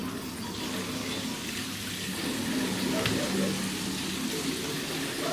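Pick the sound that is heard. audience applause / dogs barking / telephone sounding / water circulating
water circulating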